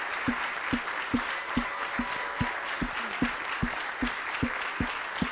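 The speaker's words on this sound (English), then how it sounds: "Big round of applause for the Matter Lakes Chorus" Audience applause for the Miami Lakes Chorus at a town event, steady dense clapping with sharper rhythmic claps standing out at a regular beat throughout.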